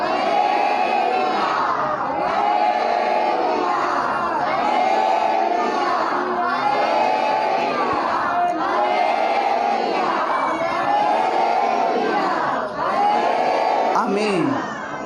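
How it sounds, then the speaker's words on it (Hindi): A church congregation at a Thursday meeting shouts devotional cheers together, a loud, sustained crowd roar with rising whoops and repeated surges, the voices filling the room without pause. "लगातार जयकारे लगाई।"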